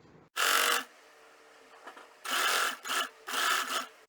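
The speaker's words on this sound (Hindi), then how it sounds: "स्लीव बॉटम को इसके ऊपर लैप कर देंगे और इस तरह से इस पे सिलाई करेंगे स्लीव बॉटम और कफ की" A sewing machine stitches a lapped sleeve bottom onto a cuff. It runs in three short, loud, close bursts of rapid whirring, separated by quiet pauses.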